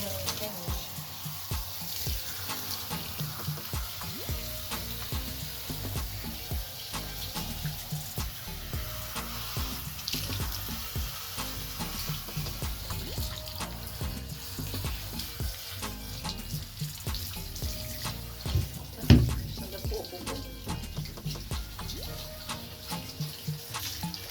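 Tap water runs continuously over a Spitz dog during a home bath, a steady splashing hiss with small knocks and one brief thump, moderately close.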